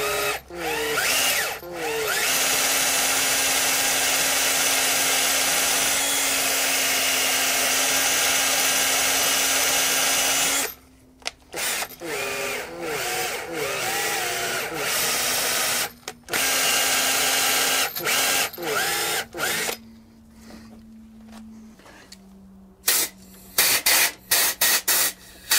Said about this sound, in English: I'm going to do what I feel is the next best thing, which is a wire brush on a drill